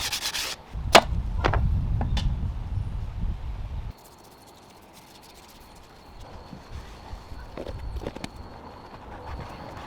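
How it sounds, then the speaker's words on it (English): An old park bench has its old paint and finish sanded off, a loud, coarse, steady rasp close by for about three seconds before it stops, then faint scattered knocks and scrapes. "I'm just trying to get off all of the old finish, the old paint."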